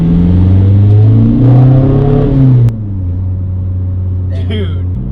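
A Volkswagen 1.9 TDI diesel car fitted with big injectors pulls hard in second gear, its loud engine drone climbing steadily before the note drops and settles into a lower steady hum, with a voice talking over it.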